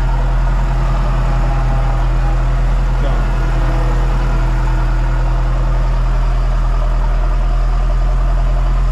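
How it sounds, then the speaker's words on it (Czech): A Valtra tractor engine idles at a steady low rumble throughout, a constant burbling hum that stays loud and near with no change in pace. "Motor si tak hezky bublá"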